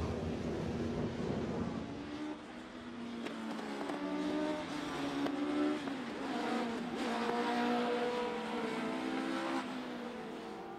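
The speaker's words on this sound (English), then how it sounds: "On track, the cars make their way in towards McIntyre's behind the pace car." Several Legends race cars drive as a group behind the pace car on the way into McIntyre's, engines droning and rising steadily in pitch, fairly close and loud, with no talk over them.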